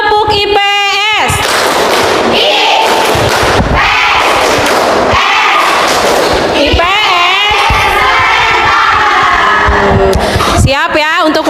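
Indonesian social studies (IPS) class clapping chant in a classroom, with loud, steady rhythmic claps running under chanting children's voices throughout.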